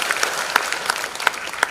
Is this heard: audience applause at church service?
yes